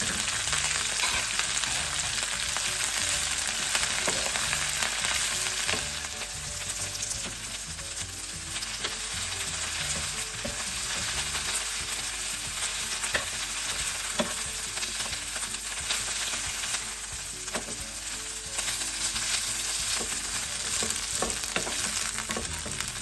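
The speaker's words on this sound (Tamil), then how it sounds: "இந்த கொத்தமல்லி தலையை போட்டுக்கொள்ளும் எல்லாத்தையும் போட்டு வதக்கி எடுத்துக்கொள்ளுங்கள்" Mint and coriander leaves sautéing in a pan for chutney, a continuous sizzle with frequent stirring scrapes and clicks, steady and fairly close throughout with no talk.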